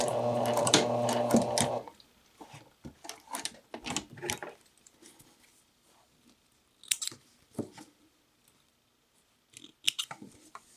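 Sewing machine stitching bias tape as a neckline facing, a loud steady mechanical whir for about two seconds that stops for the back tack, then scattered soft clicks and fabric handling noises.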